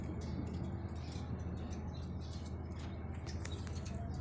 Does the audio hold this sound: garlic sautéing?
no